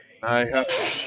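A single sharp sneeze from a person at a Dungeons & Dragons tabletop session, brief and close, with a voiced burst breaking into a noisy exhale, overlapping with talking.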